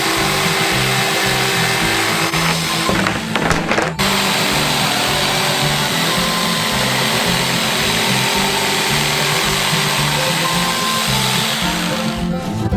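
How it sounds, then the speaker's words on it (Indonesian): A wooden board is sawn through with a wood saw while making a giant Bounty bar, a loud continuous harsh rasping with a brief break early on, no voices over it. "lalu memotongnya dengan gergaji kayu"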